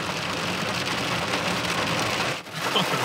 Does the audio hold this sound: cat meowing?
no